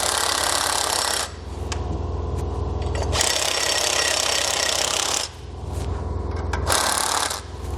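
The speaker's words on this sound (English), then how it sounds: "We can then snug those down using a 9/16 socket." A 9/16 socket tool snugs down lock nuts on an Air Lift LoadLifter 5000 air helper spring bracket in three loud rattling bursts, the longest about two seconds, separated by quieter pauses.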